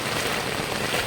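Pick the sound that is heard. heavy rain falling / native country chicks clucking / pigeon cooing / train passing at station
heavy rain falling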